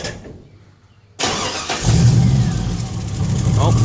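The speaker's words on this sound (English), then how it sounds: "Go ahead and fire it up." LS-swapped 1967 Chevrolet Bel Air engine starting: after a quiet pause a loud close crank catches and settles into a rumbling idle, with people talking over it.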